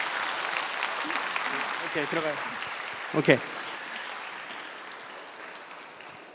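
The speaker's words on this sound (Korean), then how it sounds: "박수 한번 주세요." A church congregation applauds for a couple during a Sunday evening service, a dense, steady wash of clapping that runs throughout and fades slightly, with a voice speaking briefly over it.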